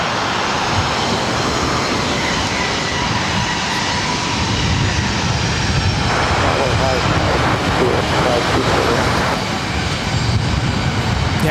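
A jet airliner moves at LAX airport, a broad sustained engine roar close by with a rising whine partway through, while people talk over it.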